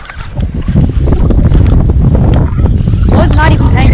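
Strong wind buffets the microphone with a constant low rumble on an overcast day while bass fishing in Florida, while voices talk over it.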